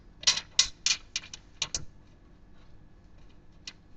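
A brass standoff being screwed hand tight into a computer case, a quick run of close, crisp metallic ticks and clicks in the first two seconds, then a few faint scattered clicks in near silence.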